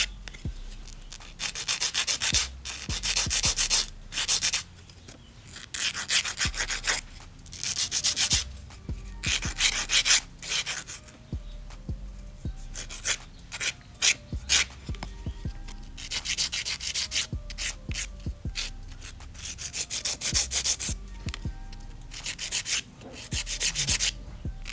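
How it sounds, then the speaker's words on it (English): A hand file shapes and sharpens polygel stiletto nails, producing steady, close rasping strokes in quick repeated bursts with brief pauses between passes, alone without talk. "grabbing a hand file, just go in and just sharpen your shape up a bit"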